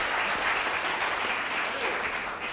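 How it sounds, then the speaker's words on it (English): An audience applauds contestants at a stage event, a dense, steady burst of clapping filling the whole moment without any voices over it. "Please give a big round of applause to all our contestants."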